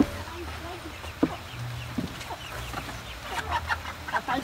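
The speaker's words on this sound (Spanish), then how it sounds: "Esa gallina que están ahí" Hens clucking nearby on a farm, a few short throaty clucks and calls scattered over faint background noise, with people speaking at times.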